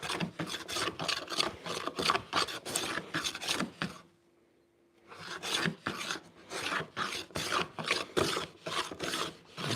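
A hand plane shaves figured wood in rapid repeated strokes, each a short raspy swish in a steady rhythm, close up, with a brief quiet pause midway before the strokes resume.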